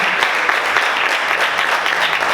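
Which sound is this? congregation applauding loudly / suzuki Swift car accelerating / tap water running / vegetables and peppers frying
congregation applauding loudly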